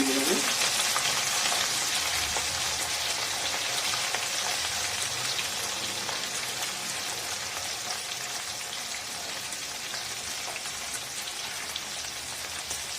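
Carrots and long beans sizzle steadily in a hot pan while cooking for a winter vegetable khichdi, a dense, even frying hiss that holds close and loud throughout with no talk.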